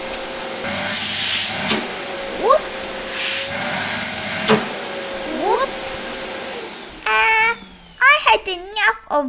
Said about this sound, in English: Enough of vacuum cleaner.